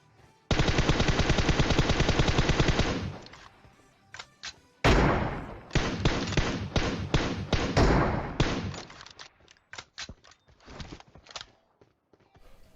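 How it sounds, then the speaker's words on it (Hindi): Sustained rapid automatic gunfire bursts for a few seconds, then a series of separate loud shots and short volleys in PUBG Mobile, close and punchy. "भाई अभी भी गोलियां पेल रहे हैं और गोली हम पे ही आ रही है"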